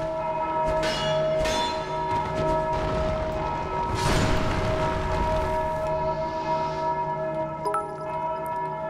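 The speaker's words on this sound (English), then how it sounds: "I didn't mean to ring the bell." A heavy castle bell in Dark Souls II tolls loudly several times, each strike ringing out with a long, sustained resonant hum, plus a deep boom near the middle.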